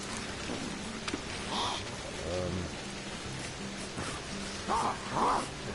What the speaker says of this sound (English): it's fucking raining as well